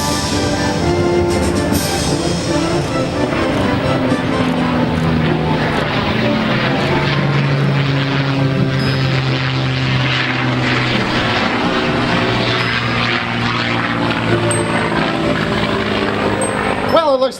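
A P-51 Mustang propeller fighter flies at an airshow, its steady droning engine roar loud and continuous, with shifting pitch as it passes, under a voice talking over the sound.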